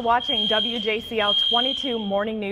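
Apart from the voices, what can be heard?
fire alarm blaring during a fire drill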